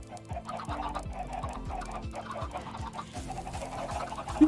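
Flock of chickens clucking in a video game, a steady overlapping chorus of short clucks at moderate level with no voices.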